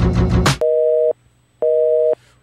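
Telephone busy signal on a failed call: two steady, loud beeps of equal length separated by a short gap, following a brief burst of sound at the start.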